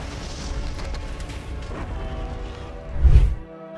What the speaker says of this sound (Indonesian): sebuah ledakan menghantam mereka.